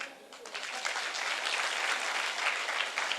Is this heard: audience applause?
yes